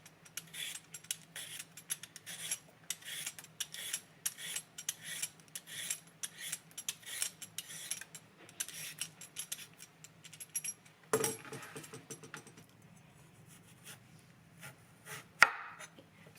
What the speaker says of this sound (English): now let's cut up our cucumber